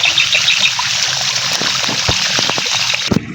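Water flows steadily while calamansi trees are irrigated, a close continuous trickle with a few brief splashes and knocks near the end and no voices.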